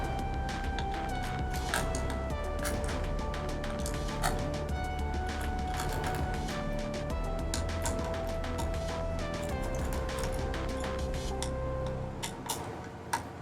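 Phillips screwdriver backing out the four small screws that hold a hard drive caddy in a Dell XPS 14 laptop: a steady run of rapid, fine metallic ticks and clicks close up over a low background hum, with no talking.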